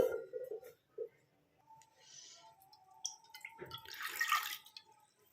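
Water splashes briefly into a pan after a few quiet taps and clinks, a short bubbling pour near the end.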